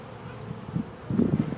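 Honeybees hum during a May beehive inspection, a low, uneven buzz close by that swells and thickens toward the end, with no talk over it.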